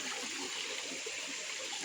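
Water pouring from a pipe in a rural Konkan setting, a continuous close rushing and splashing flow with no breaks.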